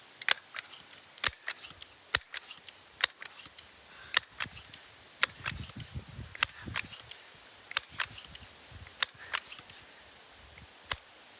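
A Crosman 1377 air pistol converted to 1322 being pumped up ten times: a series of sharp, close mechanical clicks and clacks at a fairly regular rhythm over quiet background, with no talk.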